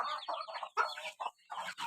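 A brooding hen sitting on a clutch of ten to fifteen eggs on a farm gives a run of close, repeated clucks and low throaty calls in short bursts, with brief pauses between them.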